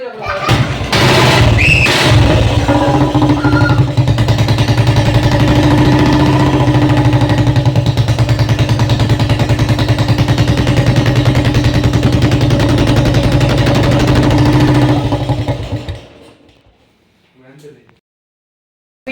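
Royal Enfield Bullet motorcycle engine idling steadily just after a first-kick start, a loud, close, continuous thumping rumble that runs for about sixteen seconds before cutting off into near silence.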